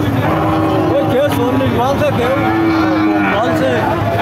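A large dry cow at a busy cattle market lows several times amid a loud, constant crowd hubbub, with voices talking throughout.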